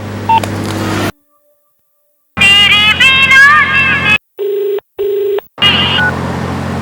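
Mobile phone ringtone playing as a melodic tone sequence with short beeps, loud and close, broken by silent gaps.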